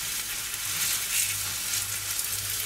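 Potato pancake batter sizzles in a frying pan, a steady close crackling hiss of hot oil with small pops, continuous and without talk.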